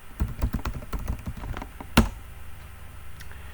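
Fingers typing a command on a computer keyboard, a quick burst of irregular clicks followed by one sharper key strike, then quiet desk ambience.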